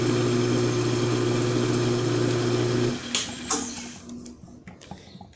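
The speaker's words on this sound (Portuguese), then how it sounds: "finalização do furo, ó, a broca já entrou 5 centímetros para dentro da peça" A drill bit bores into a metal part on a homemade lathe, giving a loud, steady machine hum with a droning tone for about three seconds before it cuts off, leaving faint clicks and handling noise.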